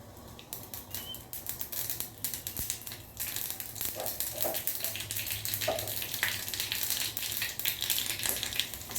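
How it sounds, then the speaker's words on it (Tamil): Mustard seeds crackle in hot oil for a chutney tempering, a dense run of sharp pops and spattering clicks that continues without pause, close and moderately loud. "சட்னிக்கு வெறும் கடுகும் ஆயில் ஊற்றிருக்கேன். கடுகு சேர்த்துருவேன்"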